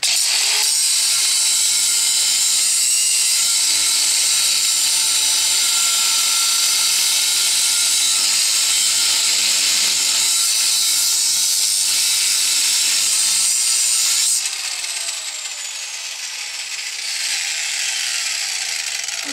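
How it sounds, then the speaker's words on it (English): A cutting wheel grinds a channel in metal while a truck brake kit is installed, a loud, continuous high whine that holds steady for about fourteen seconds, then drops away and spins down to a softer lingering hum. "just let the cutting wheel do the, do the work"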